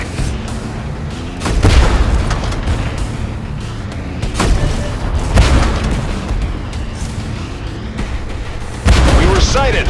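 Gunfire and explosions in a tank battle video game, several heavy booming shots and blasts rolling over a constant rumble, loud and close, with a voice speaking at times.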